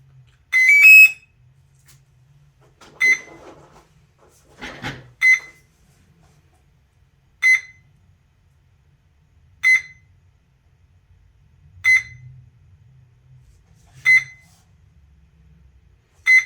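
An RC plane's ESC gives a series of short, sharp electronic beeps at power-up, evenly spaced about every two seconds and fairly close, with a faint low hum and a brief clatter of handling between them.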